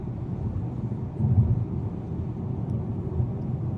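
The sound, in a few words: heavy highway traffic passing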